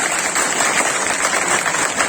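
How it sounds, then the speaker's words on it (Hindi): Loud, continuous applause from an audience at a company awards ceremony, a dense even patter of many hands clapping throughout. "अभी एक बार और तालियां बजाएं प्लीज।"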